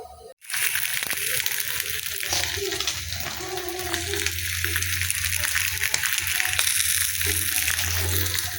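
Fish masala roast frying on a stone dosa griddle, a loud, steady sizzle and spatter that runs nearly unbroken after a brief pause at the start.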